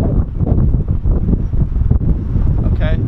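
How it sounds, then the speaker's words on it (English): A big gust of wind buffets the microphone with loud, rough rumbling that fills the whole moment, steady and close. "Okay, big gust of wind."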